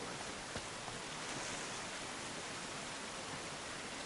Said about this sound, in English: Gotta love those water effects, man.